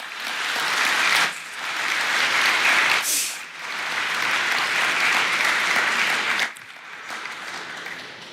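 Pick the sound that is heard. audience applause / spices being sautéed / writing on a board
audience applause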